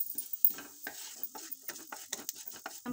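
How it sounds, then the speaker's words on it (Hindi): Cumin seeds roasting in hot oil in a kadai, giving soft crackling sizzle with light clinks and scrapes of a spoon stirring, quiet and close with no speech. "ऑयल गर्म होने के बाद इसमें हम जीरा ऐड करेंगे। जीरे को भून लेंगे।"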